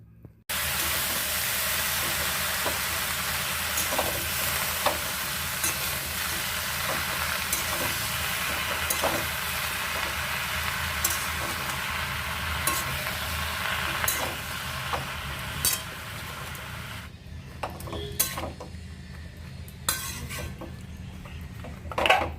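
Spinach, potato, radish, eggplant, carrot and beans being stirred with spices in a pan, with a steady sizzle under repeated scraping and clinking of a spoon against the pan, ending in a few sharper knocks.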